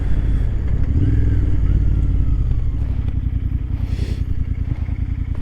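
A motorcycle rides along in somewhat cold weather, its engine droning loud and steady at close range with a low rumble throughout, pulsing slightly as the throttle shifts, with no voices over it.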